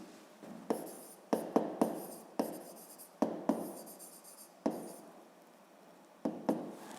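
Pen or pencil writing out a fifth-grade maths exercise by hand, with steady scratching strokes punctuated by sharp taps as the tip strikes the page, close and clear with no talk.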